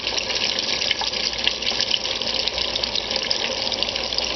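Chicken breasts frying in hot oil for Southern fried chicken, giving a steady, dense, close sizzle and crackle that runs unbroken throughout with no talking.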